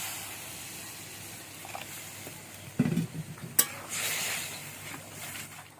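Water poured into a pan of fried spice masala with kasuri methi for a spinach egg curry, giving a soft sizzle and stirring with a couple of sharper splashy bursts midway, then a steady hiss.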